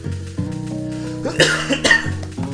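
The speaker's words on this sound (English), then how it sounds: "if I could stop coughing, that'd be amazing." A person coughs several times in harsh bursts, the loudest near the middle, while music with a steady rhythm plays underneath throughout.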